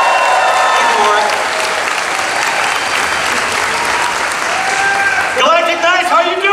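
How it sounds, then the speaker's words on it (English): A large audience at a Star Wars: Galaxy's Edge fan panel gives Warwick Davis a long, loud burst of dense applause that fills the room. Voices and livelier tonal sounds come in near the end. "Give him a big round of applause."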